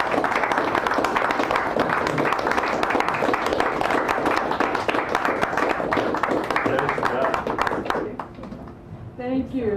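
An audience at a poetry reading in a San Francisco cafe gives a poet sustained, dense applause that fills most of the moment, then fades out as a voice begins speaking near the end.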